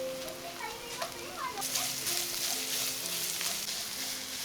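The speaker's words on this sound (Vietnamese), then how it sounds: "Xào lên cho gia vị dậy mùi thơm." Garlic, lemongrass and chili sizzle as they stir-fry in a hot pan, the frying growing louder midway, with faint voices and a tonal hum in the background.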